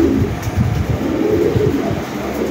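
Fancy pigeons, a newly paired breeding couple sitting on eggs, coo in low, throaty repeated rolls that carry on continuously at close range with no talk.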